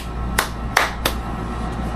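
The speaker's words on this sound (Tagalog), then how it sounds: "palakpak" Three sharp hand claps, spaced irregularly, close and fairly loud against a quiet background.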